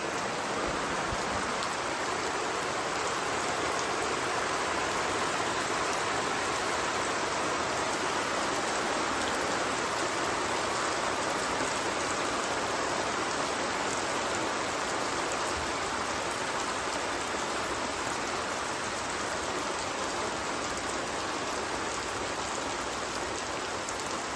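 Heavy thunderstorm rain pours steadily onto a planting container and the ground around it, a dense, even hiss with no pauses, close and continuous.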